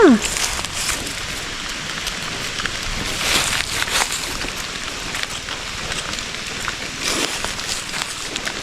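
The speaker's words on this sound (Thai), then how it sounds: "ฝนก็ย่อย" Light rain patters steadily on a surface outdoors during a mushroom foraging trip, a soft continuous hiss with occasional louder bursts.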